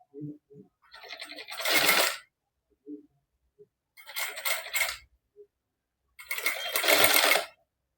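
Sewing machine stitching piping onto a princess-cut blouse, three separate bursts of whirring stitching about a second each with pauses between, close and clear.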